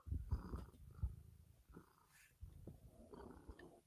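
A cat purrs in a low rumble close to the microphone, coming in uneven pulses, quiet overall.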